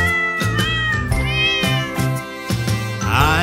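A cat meows repeatedly in a sung children's song about pets, the meow-like cries sitting within bright music with a steady beat; the meowing may be a voice imitating a cat.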